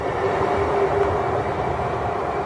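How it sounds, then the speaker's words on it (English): A London Midland passenger train bound for Birmingham New Street via Northampton at Milton Keynes Central station, a steady loud rumble of the train close by, with faint tonal hums over the continuous rolling noise and no talking. "Here comes a London Midland service bound for Birmingham New Street via Northampton, 35109."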